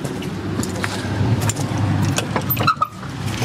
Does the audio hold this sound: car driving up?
yes